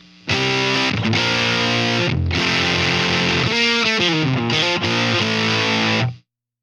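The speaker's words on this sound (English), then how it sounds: "The one where it's going to make a big difference here is the fuzz. So the fuzz by itself." Electric guitar through a Line6 Helix fuzz effect plays loud, thick, saturated chords and sliding notes, sustained in several bursts with short gaps before ringing out and stopping.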